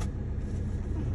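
A car engine idles steadily before pulling away during a driving lesson, a close, continuous low rumble with no talking over it.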